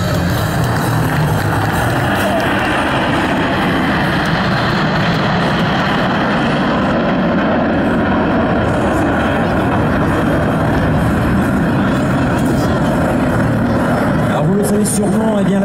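Alpha Jet aerobatic patrol jets flying past in formation at the La Ferté-Alais air show, a loud, steady jet roar sustained throughout with a public-address commentator speaking over it.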